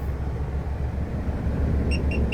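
A tractor's engine rumbles steadily at close range as it drives off, with a few short high beeps near the end.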